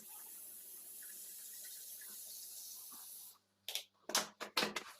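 Tap water steadily filling a vessel at home, a constant hissing stream that runs for over three seconds, then stops, followed by a few short, sharp splashes or clatters close by.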